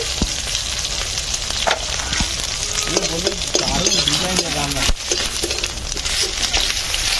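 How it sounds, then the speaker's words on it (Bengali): Cumin seeds tempering in hot oil, added after bay leaves and dried red chillies, give a steady loud sizzle throughout. Brief stirring scrapes and a faint voice come through near the middle. "জিরের ফোড়ন দিচ্ছি"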